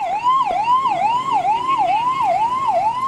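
A fire brigade siren wails on a fire engine arriving at a major blaze, its rising and falling tone repeating steadily about twice a second, loud and close, with faint road traffic beneath.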